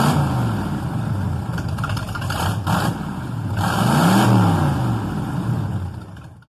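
A big Cadillac 500 cubic inch V8 revving close and loud, a deep rumbling idle that climbs and falls through a couple of throttle blips.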